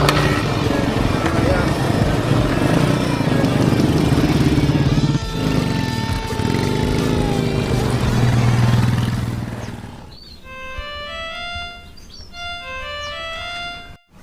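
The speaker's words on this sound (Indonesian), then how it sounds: "motor jeung mogok segala." A motorcycle engine runs loud and rough for about ten seconds, then sputters and dies out, leaving a quieter stretch with a few thin high chirps.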